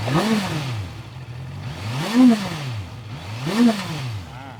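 A Honda four-cylinder motorcycle with its stock exhaust revs up three times, each rise and fall of the engine note close and fairly loud, with a smooth idle between the blips.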